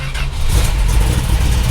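1965 Dodge Coronet with a fuel-injected engine, cold, firing up: a brief starter churn gives way to a loud, rumbling low idle close by.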